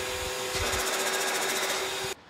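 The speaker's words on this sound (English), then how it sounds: "the turbo stalls. And when it's going faster, it makes that characteristic doo-doo-doo noise." A turbocharger goes into compressor surge, giving a rapid fluttering stutter over a steady whine and hiss that lasts under two seconds before abruptly cutting out.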